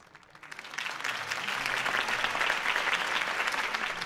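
A crowd in Batman: The Telltale Series breaks into applause after a campaign speech, the clapping rising quickly and holding as a dense, loud, sustained roar.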